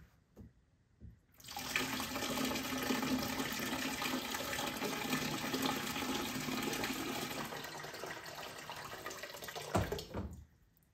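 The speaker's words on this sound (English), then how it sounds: "top it up with cold water, it's the perfect temperature for a shower" Cold water runs into a shower bucket in a cabin to top it up, a steady splashing gush that starts after a quiet moment, continues evenly for about eight seconds, then cuts off.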